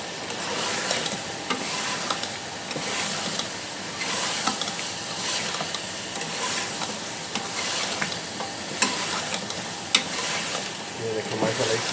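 Chopped bottle gourd sizzles in a pan of spiced masala for a chicken dish while a spoon stirs it, with steady frying and scraping and occasional sharper clinks.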